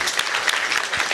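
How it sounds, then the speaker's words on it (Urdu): Brief, fairly thin clapping from an audience at an official ceremony lasts barely a second. "آپ نے تالی کمزور لگائی ہے"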